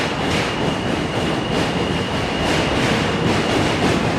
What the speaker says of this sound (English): M train coming by.